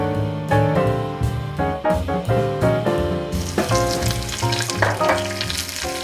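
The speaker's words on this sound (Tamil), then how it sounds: "எண்ணெய் சூடானதும் கடுகு, உளுந்து மற்றும் கருவேப்பிலை இலைகளை சேர்த்துடலாம்" Mustard seeds, urad dal and curry leaves fry in hot oil for a Tamil tomato chutney tempering, a steady close sizzle with crackling pops that grows busier and hissier in the second half, with no talk.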